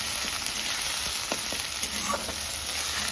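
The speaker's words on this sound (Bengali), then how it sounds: "এবার আমি বেটে রাখা বাটাটাকে দিয়ে দিচ্ছি। আমি সুন্দর নাড়িয়ে চাড়িয়ে মিশাতে থাকবো" Kharkol leaf paste fries in hot oil while being stirred, a continuous dense sizzle with soft scraping strokes, close and alone.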